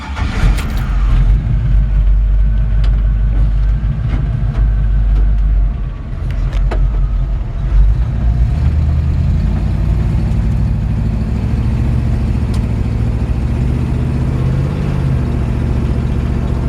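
A 1950 Chevrolet 3100 pickup on a late-model C10 or CK Blazer chassis drives along, its engine a loud, steady low rumble close by, easing briefly before picking up again, with no talking.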